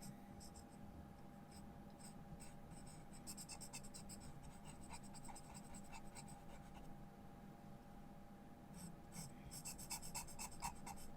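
An extra hard pencil drawing contours and shadows on paper, producing repeated close, dry scratching strokes in short bursts over a steady low room hum.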